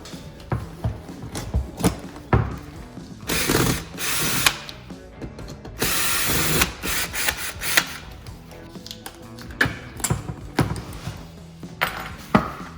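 A hand ratchet works old rusty bolts and screws loose on a 1968-1970 Chevelle seat, giving repeated rapid clicking bursts with short pauses, loud and close.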